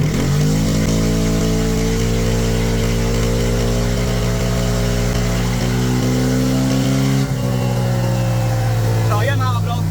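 Motorcycle fitted with an aftermarket exhaust pipe revving hard at full throttle, loud sustained engine roar with rising pitch, a brief dip near the end.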